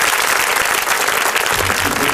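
A studio audience at a television talk show claps loudly and continuously, a thick sustained burst of applause filling the room from start to finish.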